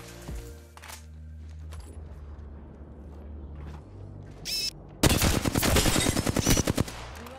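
Distant gunfire from another team fighting in Apex Legends: scattered shots early, then a loud, rapid burst of automatic fire near the end, over low game ambience.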